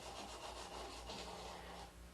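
A shellac finish on wood being rubbed out by hand with mineral spirits, producing a continuous soft, hissy scrubbing with faint rhythmic back-and-forth strokes, close and quiet, with no voices.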